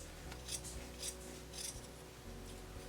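Scissors snip through cotton fabric while sewing a blouse, three crisp cuts spaced about half a second apart over a steady low hum, close and alone with no talking.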